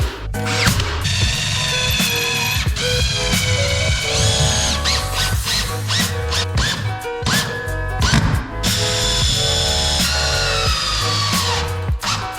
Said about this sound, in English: drilling a hole in the top to secure a bolt through the top of this beam.